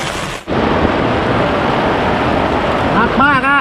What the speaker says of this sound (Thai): ตอนนี้นะครับ ฝนตกครับ ฝนตกครับ